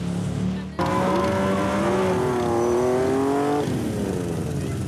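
A motorcycle engine runs steadily and loud at a traffic stop during a motorcycle rally, with a rising revving tone after a brief dip near the start, sustained to the end.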